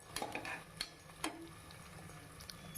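Onions and garlic being stirred in a pan while cooking coconut milk rice: quiet scrapes and a few sharp clinks of a spoon on metal over a faint sizzle, with no talking.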